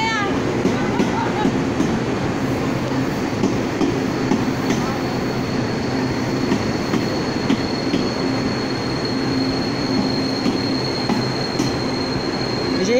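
An EMU870+EMU869 first-generation Smile commuter EMU rolls along the Pingtung line toward Chaozhou, with a steady rumble of wheels on rails and some squeal, heard close and loud throughout, with speech faintly underneath.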